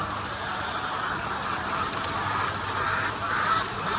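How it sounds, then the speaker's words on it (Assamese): Broiler chickens in a poultry shed make a constant crowded clucking and chatter that stays steady and fairly loud from start to end. "ইফালে মুৰ্গী চাওক আপোনালোকে"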